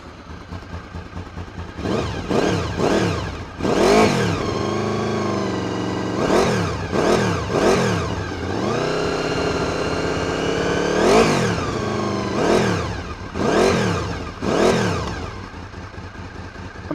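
A Honda VFR800 motorcycle engine revs repeatedly, its exhaust roaring up and down in pitch in short blips and longer sustained pulls, loud and close, settling back to idle between throttle bursts.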